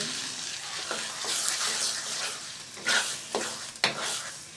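Spoon stirring sugar into petha halwa, an ash gourd sweet, in a pan, with soft scraping strokes and occasional sharper clinks over a steady low sizzle; no one speaks.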